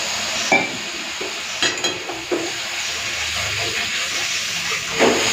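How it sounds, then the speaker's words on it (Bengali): Spice paste of turmeric, Kashmiri red chili powder, salt and a little water fries in a pot, hissing and bubbling steadily up close, with occasional louder scrapes and knocks as it is stirred. "লঙ্কার গুঁড়ো কাশ্মীর লাল লঙ্কার গুঁড়ো দিচ্ছি নুন সামান্য একটুখানি জল দিয়ে মশলাটাকে কষে নেব"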